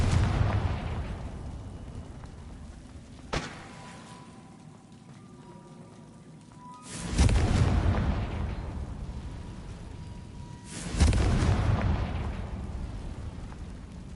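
Confringo blasting spells exploding in the video game Hogwarts Legacy: two heavy booming blasts with long rumbling tails, plus a sharper crack earlier, over a steady rain-like background hiss.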